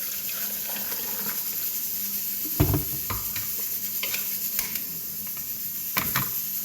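A pot of lemon, ginger and turmeric for a cough remedy heating on the stove, giving a faint, steady bubbling hiss broken by a few soft knocks and clinks.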